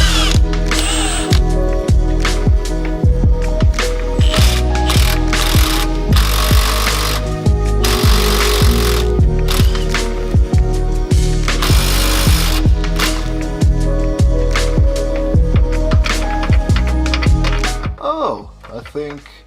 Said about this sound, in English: So I'll take out these 4 nuts and bolts here